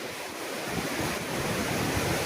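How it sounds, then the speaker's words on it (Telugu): Boddavara waterfall near Vizianagaram, a roughly 200-foot cascade, gives a loud, unbroken broadband roar of falling water, close and continuous with no voices. "దాదాపు రెండు వందల అడుగుల ఎత్తు నుండి కిందకి జాలువారుతున్న ఈ వాటర్ ఫాల్"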